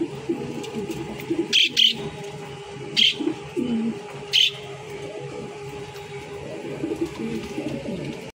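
A pair of Lahori pigeons, a red male and a black female, coo softly and repeatedly at close range, with a few sharp higher chirps breaking in.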